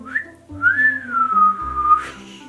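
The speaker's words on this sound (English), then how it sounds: "growing up, I never knew how to whistle" A person whistles a short, wavering melody, one brief high note and then a longer sliding tone, close and clear with no talking.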